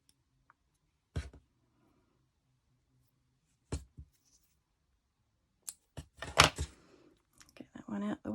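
Scissors snip through red yarn for a crochet Christmas tree decoration: a few crisp, close cuts spaced several seconds apart, then a quick cluster of snips with light handling noise near the end.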